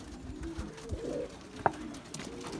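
Racing pigeons back from a 200 km race coo softly in a loft, low murmuring calls over steady background hum with a single sharp knock partway through.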